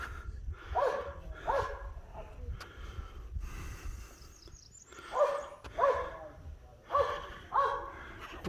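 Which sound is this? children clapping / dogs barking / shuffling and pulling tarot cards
dogs barking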